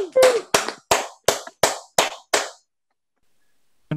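Seven sharp, evenly spaced hand claps ring out loudly and close, each with a short decay, followed by silence and one faint final clap, welcoming a band at a live show.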